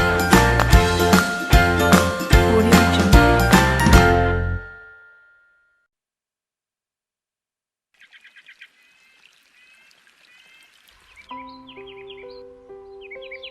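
Recorded birdsong on a radio segment about Indonesian birds, a loud musical passage that ends, then after a silence brief high chirping calls followed by tinkling tones, with no talk.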